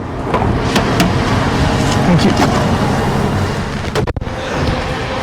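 A Mitsubishi car drives a long desert highway in Egypt, with a steady rumble of engine and road noise and wind buffeting across the whole stretch, loud and continuous.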